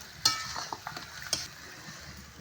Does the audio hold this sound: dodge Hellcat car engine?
no